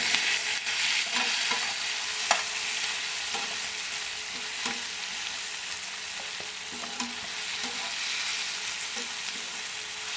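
Ingredients for a catfish curry sautéing and sizzling in a pan, a steady frying hiss with occasional stirring scrapes and clinks, close and fairly loud with no talk.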